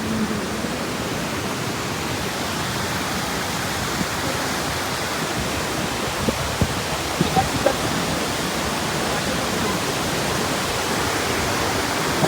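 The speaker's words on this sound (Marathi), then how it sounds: "मस्तपैकी असं वॉटरफॉल आहे पोपटगावचा तुम्हाला दाखवतो आता" Rushing water at Popatgaon waterfall near Chiplun, a steady broadband roar holding evenly throughout with a few small knocks, and no talk over it.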